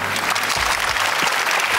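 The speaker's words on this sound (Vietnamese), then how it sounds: "vỗ tay." A studio audience on a Vietnamese TV quiz show claps in a short, steady burst of applause, with no talk over it.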